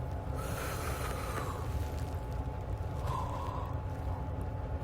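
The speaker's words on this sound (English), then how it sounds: "Inhale deep." A deep, slow inhale during a guided breathing exercise for calming panic, heard as a steady, close breathy rush of air that holds evenly for several seconds.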